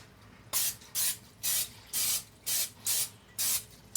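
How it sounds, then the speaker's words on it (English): Cooking spray hisses onto a skillet in a home kitchen as corned beef dinner is prepared, seven short even bursts in a steady rhythm, close and alone with no talk. "We'll spray this skillet."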